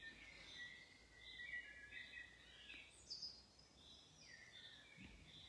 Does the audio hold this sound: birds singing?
yes